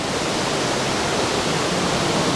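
Thac Tinh Yeu, the Love Waterfall, gives off a constant broadband roar of falling water, dense and unbroken at moderate loudness, with no voices over it.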